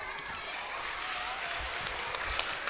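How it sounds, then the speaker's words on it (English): Children in a primary school maths quiz clap for themselves after a correct answer. A brief patter of scattered clapping comes through faintly, with a slightly noisy, busy background. "So all of you can clap for yourself."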